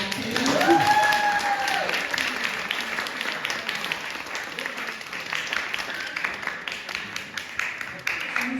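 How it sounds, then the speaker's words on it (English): A recital audience applauds the performers at an intermission, a steady wash of clapping from a room full of people that starts strong and tapers slightly, with a voice briefly audible at the start. "can we just give a round of applause to all the performers in the first half?"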